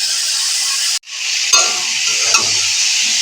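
Potatoes frying in oil and being stirred, a bright steady sizzle that cuts out briefly, then resumes with a few spoon scrapes and clinks against the pan.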